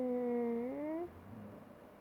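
A pet cat in The Sims FreePlay mobile game gives one drawn-out, tonal meow lasting about a second, fairly close and clear, followed by a quieter low murmur of game sound.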